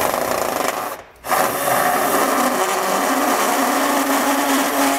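A power tool grinds and enlarges a hole in the metal frame of a 2023 Chevrolet during a Curt trailer hitch installation, a continuous close whine that cuts out briefly near the start, then resumes steadily.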